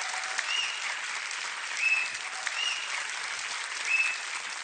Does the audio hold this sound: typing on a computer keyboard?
no